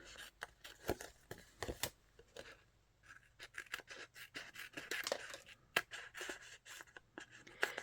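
Scissors snipping through paper for a simple handmade note card, a run of short crisp cuts in an irregular rhythm, close and fairly quiet with no talking.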